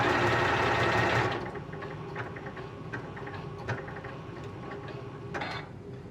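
A Janome Continental M6 sewing machine runs fast for about a second, then slows into a sparse series of soft mechanical ticks and clicks as it finishes a stitch on its own. The sound is close and there is no talk.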